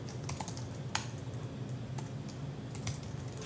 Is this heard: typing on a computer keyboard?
yes